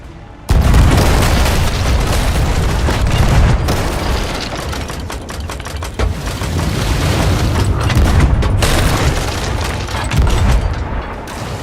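Guns fire in the pirate video game Sea of Thieves, a loud continuous roar of booming blasts that swells and dips over several seconds without letting up.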